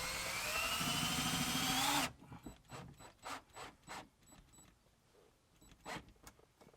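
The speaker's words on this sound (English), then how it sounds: "we had no issues drilling the overhead console to the handle" A power drill whines loudly for about two seconds drilling into a Jeep overhead console handle, then stops; quieter clicks and handling noises follow.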